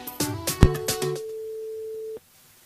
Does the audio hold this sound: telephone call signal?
yes